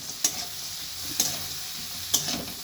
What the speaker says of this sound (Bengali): এই ম্যাগিটাকেও আমি কিন্তু একটু ভাজা ভাজা করে নেব।